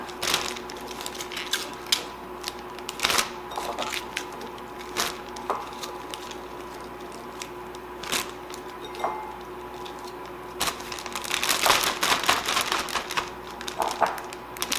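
Brussels sprouts coated in olive oil are shaken inside a Ziploc bag, making irregular close clicks, taps and rustles with brief bursts and pauses.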